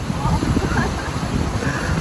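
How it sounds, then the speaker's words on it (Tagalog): Gusty wind in a vegetable garden buffets the microphone with low, rumbling blasts and a steady rushing noise throughout. "Grabe, mahangin na naman."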